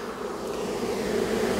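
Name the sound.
honeybee swarm buzzing at the hive entrance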